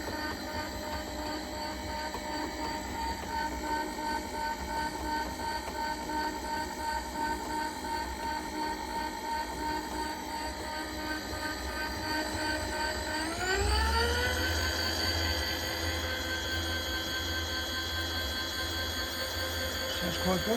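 The power feed on a Warco 16B milling machine runs with a steady mechanical whine and hum throughout. Partway through, its pitch rises sharply and it settles at a higher, louder tone, heard up close.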